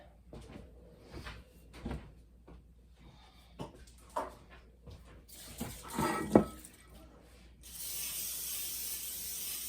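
Cooking spray (Pam) spritzed onto a dessert pan, a broad hiss that swells near the end after a few short sprays, among kitchen clatter and handling knocks.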